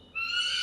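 A single loud, sustained owl hoot, clear and tonal, ringing out close by against a quiet background at a night safari in Singapore.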